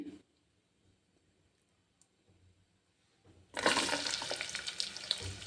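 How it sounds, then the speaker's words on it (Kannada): Sliced onions drop into hot oil with whole spices for chicken kurma: after a near-silent stretch, a sudden loud burst of sizzling begins and keeps crackling strongly, close and without talk. "ಸ್ವಲ್ಪ ಗಮ್ಮಂತ ಫ್ರೈ ಆಗಲಿ ನಾನು ಅದಕ್ಕೆ ಈರುಳ್ಳಿ ಹಾಕ್ತಾಯಿದ್ದೀನಿ"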